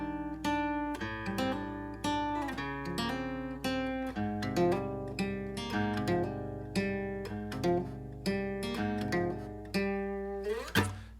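The main riff of a song, built on major 7 chords, played as a busy, syncopated run of chords and notes over a steady low bass, fairly quiet and without talk, ending on a rising slide.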